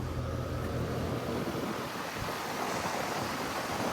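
A 2024 Ruud Achiever RP14 5-ton heat pump runs outdoors, its fan giving a steady, loud broadband whoosh that continues unchanged throughout.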